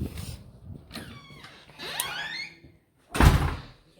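An apartment door in Charleston, South Carolina opens with creaks and squeaks from the latch and hinges, then shuts with a loud, close thud near the end. No one speaks.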